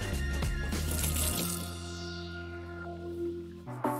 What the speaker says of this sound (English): Xand, give the bone a rinse.